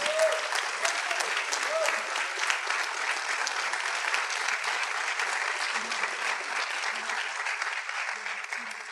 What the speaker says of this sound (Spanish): un aplauso para Jacobo